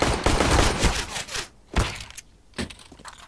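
Sharp gunfire from Counter-Strike: Global Offensive, a rapid cluster of loud shots followed by a few separated single bangs, with no talk over them.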